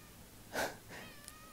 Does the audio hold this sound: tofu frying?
no